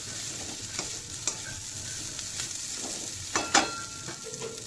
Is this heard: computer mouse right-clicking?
no